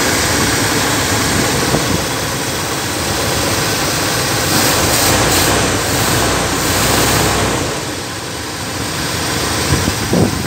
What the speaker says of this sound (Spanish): Aquí está frío, por eso que lo estoy acelerando un poco para que agarre